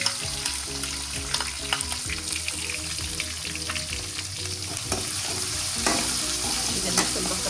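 Chopped green chillies and onions frying in a pan for bansi rava upma, a strong continuous sizzle with frequent stirring scrapes and clanks of a spoon against the pan, close and unvoiced.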